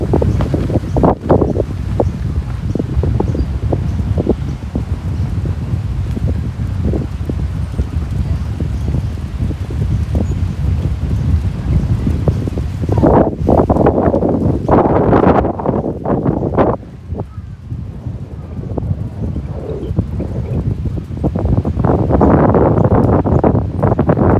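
Strong wind gusts buffet the microphone on a seaside walk along the Wynnum Manly waterfront in Brisbane, a loud continuous roar that rises and falls, with a voice heard at times.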